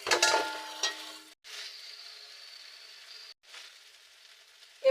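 Pre-fried potatoes drop into sizzling fried spice paste of turmeric, chilli and cumin powder for a katla fish curry, with a sharp opening crackle and then a steady soft sizzle broken by brief pauses.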